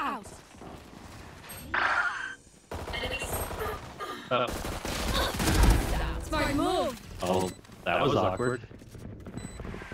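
Gunfire in Valorant, with sharp bursts and rapid automatic shots going off in clusters amid ability effects, loud and close, with quieter gaps between the exchanges.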